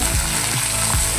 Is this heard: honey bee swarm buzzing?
no